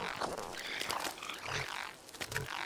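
Frogs croaking in the video game Fallout 76: a steady run of loud, close croaks repeats throughout, with no clear pause between calls.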